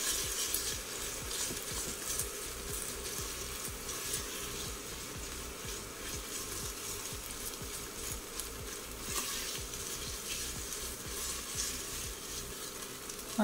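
Food sautéing in a pan while a utensil stirs and scrapes steadily against the bottom, under a continuous close sizzle, with no talking.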